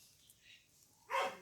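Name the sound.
dog barking in the distance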